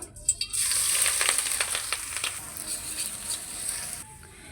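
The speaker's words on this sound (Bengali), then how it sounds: "পেঁয়াজ মরিচ ভাজা হয়ে গেছে" A steady, crackling sizzle of chopped onions and sliced green chilies frying in hot oil, with a few sharp pops and the scrape of stirring.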